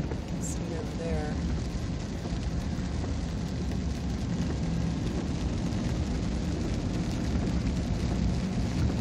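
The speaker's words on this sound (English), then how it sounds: "Had so much rain." Heavy rain hits a car while it drives on a California road in 2015. The roar of the downpour is loud and steady throughout, mixed with road and engine noise, and a brief voice is heard near the start.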